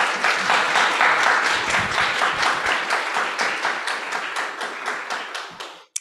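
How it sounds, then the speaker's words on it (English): Sustained audience applause at a university research symposium, dense and loud with many hands clapping for about six seconds before tapering off and stopping. "let's give them a big round of applause"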